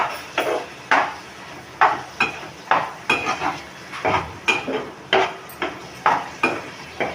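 A spoon scrapes and clatters through okra and masala in a pan, with regular sharp metallic strokes about twice a second over a faint sizzle, close and fairly loud, no talking.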